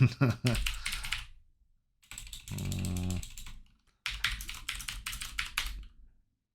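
Bursts of rapid computer keyboard typing while logging in to a BBS, clicking keys in three quick runs separated by short silences.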